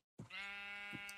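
A sheep in the Minecraft video game gives one sustained, nasal bleat with a wavering pitch, loud and close, alone with no talk.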